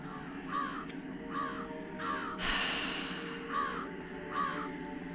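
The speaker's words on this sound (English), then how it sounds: "Scare all the crows so that they all land on the tree and then knock it over." Crows caw repeatedly in Jenny LeClue, several harsh calls spaced about a second apart over a low ambient bed, with one brief louder rustling burst midway; no one speaks.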